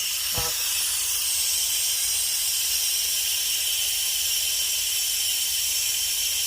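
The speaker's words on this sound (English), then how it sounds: "I'm just going to be letting out all that steam" A loud, continuous hiss of steam rushing out of a pressure cooker valve after cooking buffalo chicken, steady and close, after a brief click at the start.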